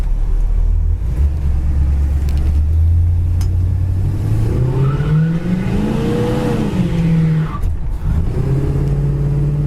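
A 1965 Pontiac GTO drives on wet pavement, its engine loud and close, with a steady rumble that rises in pitch as it accelerates, then eases off under a constant road hiss.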